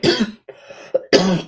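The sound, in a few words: coughing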